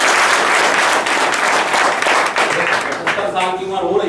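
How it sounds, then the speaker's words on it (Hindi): An audience at a political gathering for an Ujjwala gas scheme event in Kailashpur, Madhya Pradesh, applauds in a loud, dense, sustained burst of clapping. A voice speaks briefly underneath as it fades. "ताली बजाइए।"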